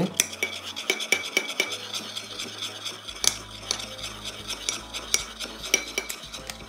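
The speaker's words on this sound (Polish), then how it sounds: "mieszamy go razem z miodem." Honey dressing for a black radish salad being stirred in a bowl, with quick, repeated clinks and scrapes of a utensil against the dish, close and fairly loud, without talking.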